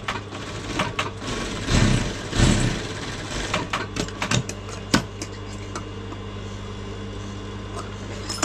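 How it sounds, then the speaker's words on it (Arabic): A sewing machine stitching a zipper onto trousers, running in a continuous steady whirr with rapid needle clatter, loudest in short bursts early on and then settling into an even close hum. "دابا غندوزو السنسلة هادي كنقادها من هنا لتحت وكندوز ليها خياطة."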